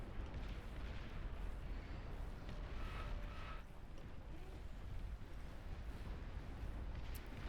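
Juggernaut units blowing up in the strategy game Beyond All Reason, a dense, continuous rumble of overlapping booms and blasts with no pauses, heavy low end, steady and loud throughout.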